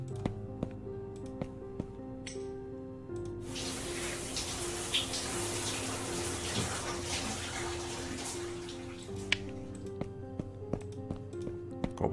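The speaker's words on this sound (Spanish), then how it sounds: "Vamos a darnos una ducha, anda." Shower water runs in the survival game Delivery From the Pain, a close, hissing spray that starts abruptly, pours for several seconds and then cuts off. Soft tonal game sounds and ticks sit underneath.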